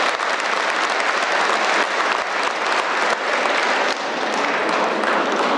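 Sustained audience applause at an outdoor Día del Campesino community celebration in Negrete, dense steady clapping from a crowd throughout, fairly loud and close, with no talk over it.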